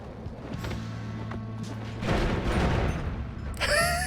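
Explosions in the game Noita burst out as a dense, rumbling blast that swells midway, with a sharper crackling flare near the end over a steady low hum.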